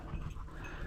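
A dog pants in quick, rough breaths at close range, fairly faint against a steady background rumble.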